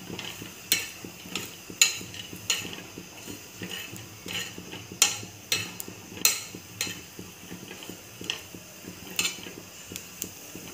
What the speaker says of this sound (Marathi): थोडंसं तेल टाकते. छान जरा गुलाबी कलरवर भाजून घ्यायचं खोबरं.